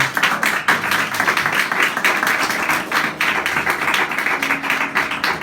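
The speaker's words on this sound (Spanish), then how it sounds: "Damos aplausos al Señor." A church congregation applauds at the close of a sermon, a steady wash of close, dense clapping with a few louder hand claps standing out.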